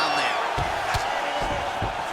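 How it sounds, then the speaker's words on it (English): A virtual arena crowd in EA Sports UFC 4 roars in a continuous, dense wash, with dull thuds of fighters clashing cutting through at intervals, no voices on top. "you hear the crowd react every time they come together"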